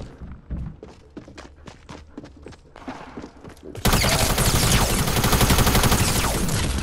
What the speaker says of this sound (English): Sam, I know you heard all them gunshots, bro.